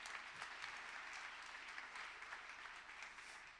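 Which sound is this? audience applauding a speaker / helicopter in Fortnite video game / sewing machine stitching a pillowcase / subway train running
audience applauding a speaker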